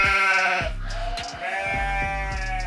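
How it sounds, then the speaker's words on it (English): Sheep bleat in a close, loud sequence: a long wavering call followed by several shorter stuttering bleats, with no talking. "True followers: sheep."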